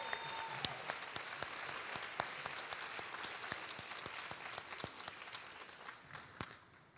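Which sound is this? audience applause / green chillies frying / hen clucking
audience applause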